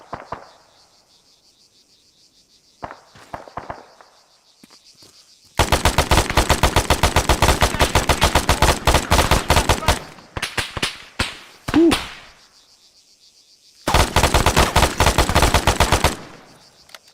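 Gunfire in the Arma 3 Altis Antistasi mod: two long, loud bursts of rapid automatic fire, with scattered single shots and quieter distant cracks between them over low ambient background.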